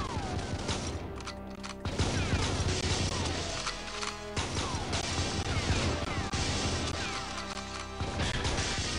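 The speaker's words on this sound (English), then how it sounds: "Getting that exploding crate out of the way." An exploding crate blows apart in the GoldenEye video game during a competitive netplay match, with loud crashing blasts layered over continuous rapid gunfire and chaotic game noise throughout.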